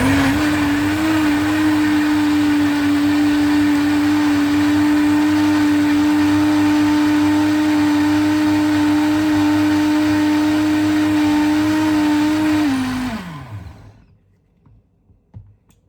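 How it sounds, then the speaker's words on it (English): An electric blender purees two tins of peeled plum tomatoes, a loud, close, steady motor whine that holds for about thirteen seconds, then winds down and stops, leaving near silence. "you just get 2 tins of peeled tomato plum and blend it for about 1 minute"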